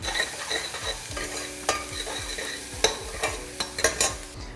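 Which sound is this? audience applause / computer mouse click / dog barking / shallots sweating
shallots sweating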